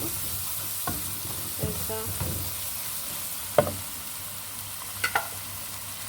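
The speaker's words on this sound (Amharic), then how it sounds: "በደንብ ታቁላላችሁ" Chicken frying in a pan: a steady sizzling hiss throughout, broken by several sharp clacks and scrapes of stirring, close up, with no talking.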